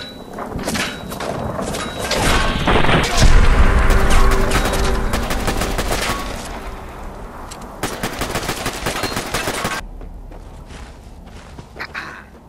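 Gunfire in Fallout 4, loud rapid automatic bursts and single shots in dense volleys, pausing briefly before another sustained burst and a short quieter tail.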